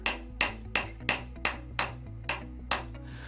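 A hammer taps a front sight into the dovetail of a S&W M&P 9 Shield EZ pistol: eight sharp, ringing metallic taps at a steady rhythm, close and clear with no voices.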